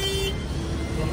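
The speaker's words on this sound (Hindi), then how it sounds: "लोग हॉर्न मारते हैं," Car horns toot amid a long traffic jam on the road from Baltal base camp toward Srinagar, a short honk over steady engine and traffic rumble, with voices talking nearby.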